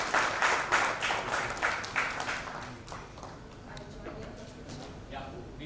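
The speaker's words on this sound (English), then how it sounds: "Can I have a round of applause," Ashish Grover, senior solution engineer at Salesforce, draws a round of audience applause at the Infocom Dhaka 2024 keynote, with dense clapping strongest in the first few seconds before thinning into a quieter, steadier patter.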